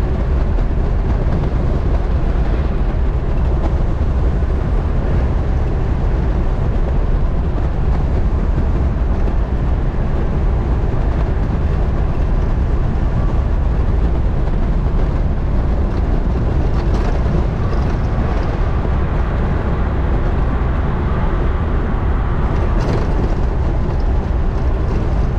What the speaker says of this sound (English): Cruising about 50 miles an hour in fourth gear.